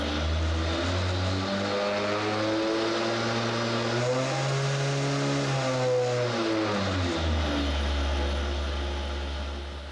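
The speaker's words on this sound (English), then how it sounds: "The Mini Mix cavitation mill represents 18 months of design refinement by Tasmanian artist David Marsden" A Mini Mix cavitation mill runs while mixing paint, its rotor whining steadily and loudly, the pitch rising and then falling again over a constant roar.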